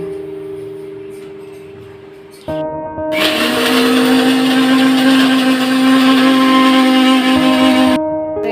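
A mixer grinder blends masala paste with water for an egg curry. The motor whirs up, then jumps to a loud, steady high-pitched whine that runs for several seconds before cutting off abruptly, close by with no speech.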